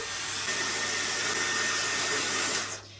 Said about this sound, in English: we just want to go in with this attachment for the Dyson and I'm gonna blow dry our hair